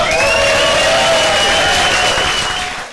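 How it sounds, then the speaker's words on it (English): Comedy club audience roars with sustained applause, whoops and cheers, loud and dense throughout before tailing off slightly at the end. "let's get that foot stamping, whooping and cheering going"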